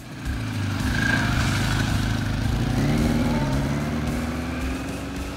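A 1976 Kawasaki KZ900 four-cylinder motorcycle engine runs steadily and loudly close by, with a rough low drone that stays even throughout and rises slightly in the middle.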